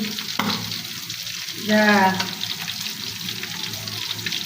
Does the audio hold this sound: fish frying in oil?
yes